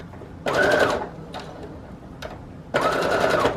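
A sewing machine set to a 4.0 stitch length runs with a normal needle in two short bursts of stitching, each under a second, with quiet pauses and faint handling sounds between them.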